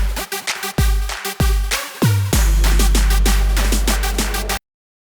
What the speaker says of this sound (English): And you can see that the mid channel sounds like this.